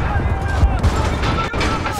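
Dense gunfire in the Call of Duty Modern Warfare campaign, rapid overlapping shots and booms filling the scene, with a voice talking underneath the battle noise.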